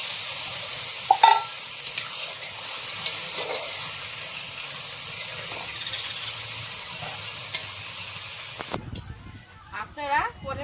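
Water poured into a hot pan of Bengali rohu fish curry seasoned with turmeric sets off a steady, broad hiss of sizzling and steam that runs for several seconds, then stops abruptly as a voice begins speaking.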